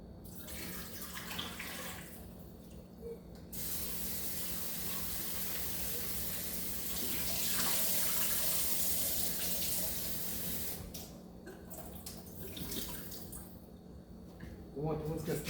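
Water pours steadily from a pot of breadfruit into a sink, a continuous rushing splash that swells midway and then tapers, heard up close without speech.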